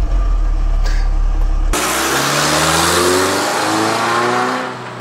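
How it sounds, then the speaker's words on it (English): A manual transmission car on the road accelerates hard after a sudden switch from steady drive noise. A loud, close engine climbs in pitch through rising rev sweeps, steps down with a gear change, then climbs again, with no voices. "We're just gonna get going, get up to speed, and try to put it in reverse while we're driving."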